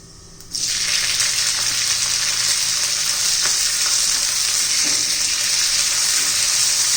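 Green chillies hit hot oil with bloomed cumin while making Kolhapuri chilli thecha, bursting into a loud, steady sizzle after a brief quiet start and crackling on close and unbroken to the end.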